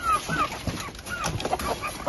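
Young chicks and chickens clucking and peeping at feeding time, a busy close chorus of short cheeps and clucks running throughout.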